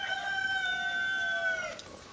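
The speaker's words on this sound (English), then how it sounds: "Sorry about all the roosters in the background." A rooster crows once, loud and close, in a long drawn-out call that trails off at the end.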